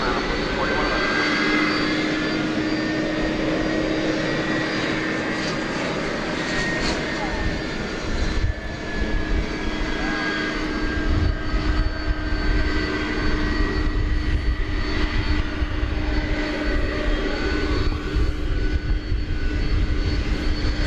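A jet airliner sits at DFW Airport, its engines giving a loud, continuous roar and whine with a steady high tone and rumbling undertone throughout, while a voice talks faintly underneath.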